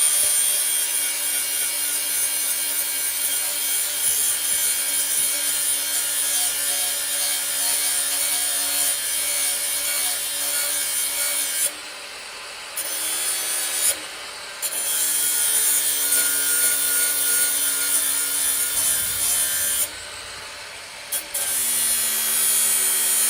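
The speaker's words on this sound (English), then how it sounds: "so I'm just going to sharpen it now with a whizzer" A bag-opening knife on a farm, rested after long disuse, is sharpened with an angle grinder, giving a continuous harsh grinding rasp up close, broken by a few short pauses midway and near the end.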